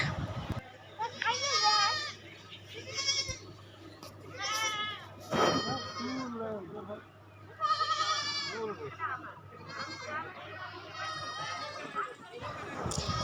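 Goats bleat repeatedly, several loud wavering cries spread across the clip, with a voice and other voices mixed in nearby.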